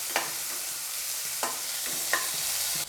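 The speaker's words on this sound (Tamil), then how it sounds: "வெங்காயத்தை நல்லா வதக்கி விட்டுருங்க." Onions fry in a pan for mutton kola curry, a steady close sizzle broken by three sharp scrapes of a spoon stirring them through the oil.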